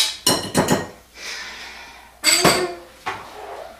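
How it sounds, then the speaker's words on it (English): A spoon or spatula scrapes and knocks against a pot while hot chocolate sauce is emptied into cake mix for a Texas chocolate sheet cake, a few short clanking metal strokes separated by quiet gaps. "Scrape down the pot."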